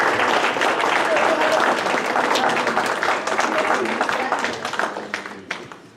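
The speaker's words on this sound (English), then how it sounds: "can I please have you give a big round of applause for our panelists" Audience at a monthly meeting applauding panelists, a dense, loud wash of clapping from a full room that holds steady and then tapers off toward the end.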